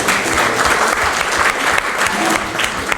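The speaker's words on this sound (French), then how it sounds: "je demande encore de l'applaudir très fort" An audience at a poetry book signing claps loudly and steadily, close by, with no voices over the applause.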